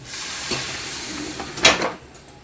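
Cooked colocasia (taro) leaves tipped into a pan of frying onions, a close sizzle that swells with a brief sharp burst of hiss and a utensil clatter before settling back down.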